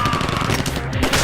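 Gunfire erupts in a Hollywood action movie scene as a loud, dense burst of rapid shots and blast noise fills a very short moment.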